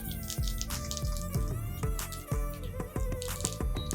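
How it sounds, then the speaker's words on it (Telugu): Mustard seeds crackle and pop in hot oil while tempering for a ridge gourd chutney, a steady scatter of sharp little bursts over a continuous sizzle, close and fairly loud with no talking. "ఆవాలు పేలుతాయి."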